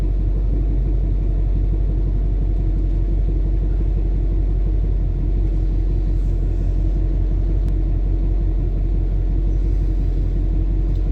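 A Ford Mach 1 with a 351 Cleveland V8 on the move, producing a constant deep engine rumble close up that carries on without break and without voices.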